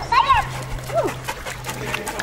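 A dog lets out a few short, sharp barks and yelps close by, with people's voices murmuring in the background.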